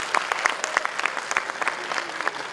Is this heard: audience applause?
yes